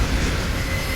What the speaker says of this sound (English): Both of the drivers didn't know that another train crash just happened, and train number 26 was heading full speed towards it